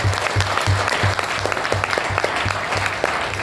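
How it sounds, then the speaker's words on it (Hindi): An audience at a general training seminar claps loudly and steadily for the team, with a rhythmic low thumping running under the continuous applause throughout. "एक जोरदार तालियां टीम जेनेसिस।"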